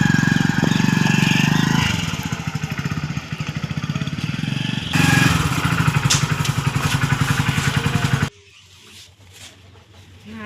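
A motorcycle engine runs close by with a loud, rapid chugging rhythm that holds steady, then drops suddenly to a quieter idle near the end.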